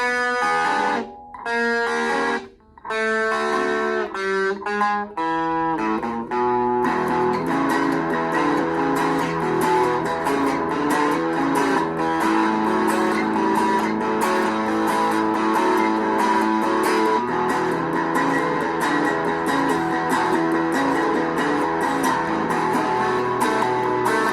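A Glarry GST electric guitar plays a few clean chords, then switches to a gritty overdriven sound with sustained distorted strumming, loud and continuous.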